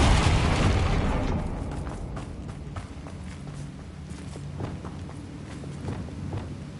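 A Confringo spell blast in Hogwarts Legacy: a loud, close boom opens the clip and fades into a rumbling tail, followed by scattered faint pops and thuds.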